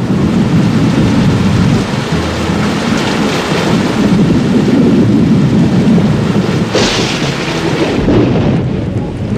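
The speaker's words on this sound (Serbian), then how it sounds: "Oluja se bliži." A cartoon thunderstorm roars with heavy, continuous rain and deep rumbling thunder. A sharper crack comes near the end, and the whole scene stays loud with no voices.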